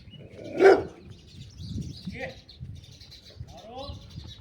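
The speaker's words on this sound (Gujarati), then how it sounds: "બાપુના કૂતરા છે" Dogs bark at an ashram near a sacrificial fire hall, one loud close bark standing out early, followed by fainter yaps mixed with bird chirps.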